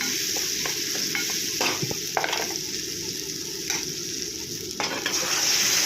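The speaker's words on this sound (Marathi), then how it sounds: "त्याच्यात थोडंसं हळद घालूया थोडंसं लाल तिखट ते सुद्धा मस्त असं परतून घेऊया" Turmeric, red chili and ghati masala sauté in a pan, making a continuous sizzle broken by repeated scraping strokes of a spoon stirring the spices; no voice.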